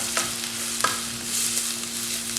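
Chopped onions, green chillies and curry leaves sauté in a pan for mushroom masala, a soft even sizzle with a few spatula scrapes and taps, close and unaccompanied by voices.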